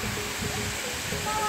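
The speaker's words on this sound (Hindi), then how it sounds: "यह है बिरथी फॉल।" Birthi Falls, a waterfall spilling into a small, clear pool beneath an open sky, gives a steady broadband rush of falling water that stays fairly loud and even throughout, with no break.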